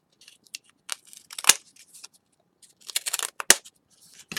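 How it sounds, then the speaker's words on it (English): Scissors snip through cardboard and foam during a drain pipe model build, with a series of close, crisp cuts in irregular bursts and two sharper snaps, quiet between strokes. "This nice thing with these cardboard and foam builds, you can just trim them up the way you want."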